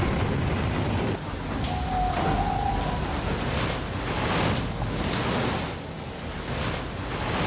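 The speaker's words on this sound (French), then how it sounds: "Hey, the waves are pretty big." Ocean waves and wind rush steadily around an IMOCA racing sailboat at sea during the Vendée Arctique race, a dense, continuous roar of surf and wind noise with surging swells.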